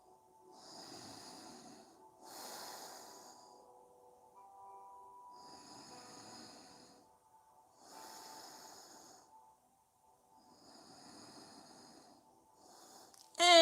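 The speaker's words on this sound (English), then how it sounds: "as you inhale and exhale through your nose" Slow nasal breathing during a yoga twist, with soft hissing inhales and exhales through the nose in a steady rhythm of about five breaths, faint and close, over a quiet background with a brief louder noise at the very end.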